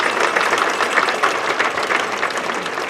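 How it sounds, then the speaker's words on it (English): Sustained audience applause fills a high school graduation ceremony, dense steady clapping from a large crowd at even loudness throughout, with no talk over it. "let's give them a round of applause"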